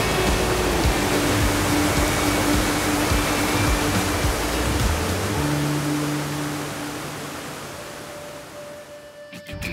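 Broadband rushing water from a waterfall and river at Falls City Park in Oregon, a steady loud roar with low tonal hum that eases off and thins toward the end.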